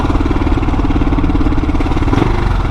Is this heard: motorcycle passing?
yes